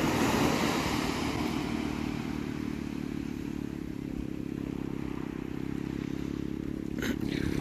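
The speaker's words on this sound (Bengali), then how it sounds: "সেই জলের তো আওয়াজ পাওয়া যাচ্ছে" Sea water rolls onto a beach at morning high tide with only small waves, a steady broadband wash of surf, continuous and fairly close, with a brief clatter near the end.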